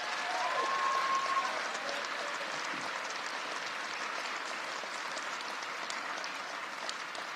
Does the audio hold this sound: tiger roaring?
no